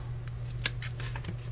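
A single quick snip of scissors cutting paper for a stamped card craft, a faint crisp cut and small rustle over a low steady background hum.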